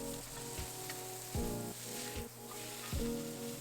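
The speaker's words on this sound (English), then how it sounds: "on separate pan, I'm gonna cook my patty" Beef burger patty frying in a scorching hot skillet, a steady sizzle with a few louder bursts and clattering thuds as the pan or patty is moved, no talking.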